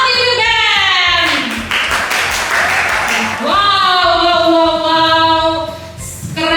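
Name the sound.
audience applause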